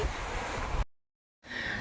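Strong wind gusting across the microphone on a windy Sunday outing, loud and rushing, cut by a brief silent gap before the blustery roar resumes.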